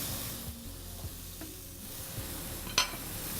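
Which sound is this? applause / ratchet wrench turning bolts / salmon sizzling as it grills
salmon sizzling as it grills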